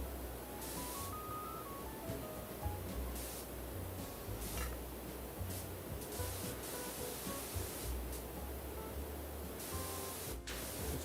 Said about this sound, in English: Because I'm just like spraying it off into the sky.